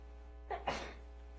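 A single quiet sneeze during a planning commission meeting, a short breathy burst with a sharper second release, against a steady low hum.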